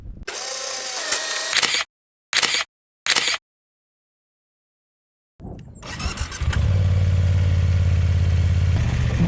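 A camera shutter fires in rapid bursts during an outdoor photo shoot by windy cliffs on the Magdalen Islands. Three close bursts of clicking end in a few seconds of silence, then a loud, steady rumbling noise builds up.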